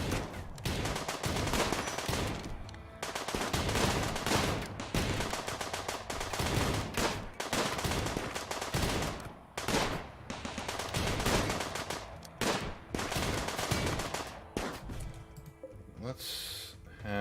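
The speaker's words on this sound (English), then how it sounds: "So this turret is soaking up all the fire." Rapid gunfire from a turret in RimWorld, dense bursts of shots overlapping almost without pause for the whole stretch, loud and close, with a voice talking now and then.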